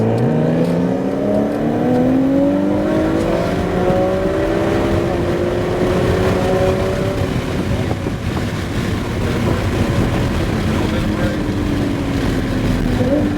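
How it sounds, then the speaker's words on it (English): A sports car accelerates on the Sonoma race track with a rising, sustained engine tone. Heavy wind noise roars over the sound throughout. "Now we're gonna roll on that gas."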